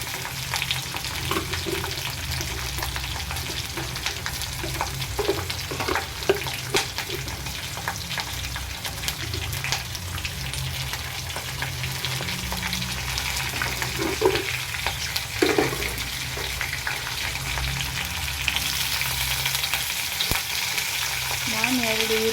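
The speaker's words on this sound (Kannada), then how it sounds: "ನಾನು 2 ಈರುಳ್ಳಿ ಹಾಕೊತಾ ಇದ್ದೀನಿ. ಫ್ರೈ ಅಂದರೆ ಸ್ವಲ್ಪ ಆಗಿರಬೇಕು" Two onions frying in a pan, giving a steady, continuous sizzle with occasional stirring scrapes and clinks throughout, close and moderately loud, with no talking.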